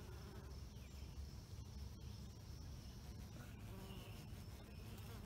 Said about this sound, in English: looks like some honeybees working right here